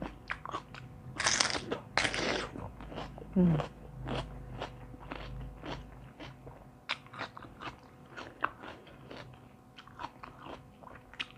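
Spicy Thai salad of large squid and crisp bitter gourd being eaten up close: loud crunchy bites followed by a long run of sharp, rhythmic chewing crunches, with a voice briefly heard at times.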